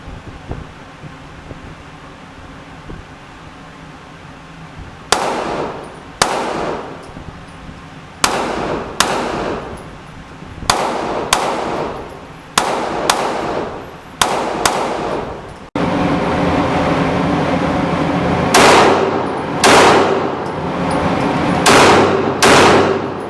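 Sharp, loud gunshots from a Taurus PT111 G2 9mm pistol firing 124-grain Federal Hydroshock rounds, a series of irregularly spaced reports, some in quick pairs, over steady outdoor wind noise.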